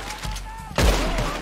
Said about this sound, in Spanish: Ahí disparo sin querer.